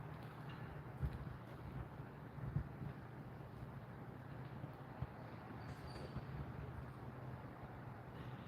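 Steady low rumbling buffeting of wind against a microphone outdoors while cutting grass, with a few thumping gusts, continuous and fairly loud throughout.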